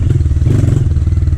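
Dirt bike engine running near and loud as the rider gives it more gas, a steady low throbbing drone with slight clatter and rising throttle, no voices.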